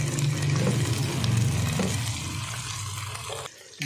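Garlic ginger paste fries in a pan while cooking keema, giving a steady dense sizzle that holds for several seconds before briefly dropping near the end.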